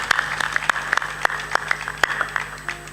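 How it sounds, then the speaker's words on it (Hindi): Scattered hand clapping from an audience at a devotional gathering, a few irregular sharp claps over a low steady hum, fairly sparse and brief. "ताली बजा दो"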